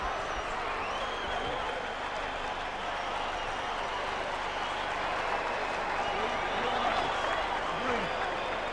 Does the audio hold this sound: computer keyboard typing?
no